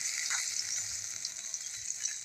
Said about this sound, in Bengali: এই মাছগুলো উল্টো পাল্টায় ভেজে নেব